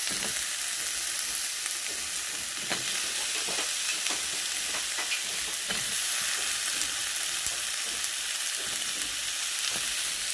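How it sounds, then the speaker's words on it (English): Baby carrots and browned onions sizzle steadily in a pan, a constant bright frying hiss broken by occasional stirring clicks and scrapes, with no voices. "we're going to add a couple handfuls of baby carrots"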